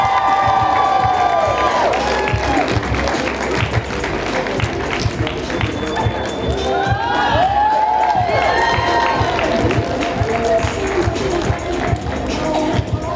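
A crowd at a high school prom fashion show cheers, whoops and claps loudly, with excited shouts and screams rising over continuous applause throughout.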